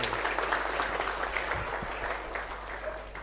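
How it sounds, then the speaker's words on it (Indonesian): Crowd applause rises at a public food policy outreach event, a dense burst of clapping that is loud at first and then slowly tapers off, with low hum underneath. "Tepuk tangan dulu."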